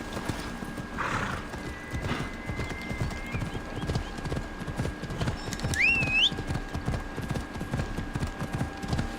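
Steady clip-clop of horse hooves at a gallop in Assassin's Creed Odyssey, a quick continuous rhythm with a brief neigh and a whistling call partway through, moderately loud over ambient game sound.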